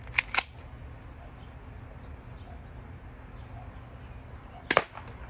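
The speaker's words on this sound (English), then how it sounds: "Here is a BB gun versus a balloon." A BB gun fired at a balloon gives two quick sharp snaps early on, then a louder crack near the end against a quiet indoor background, with no talking.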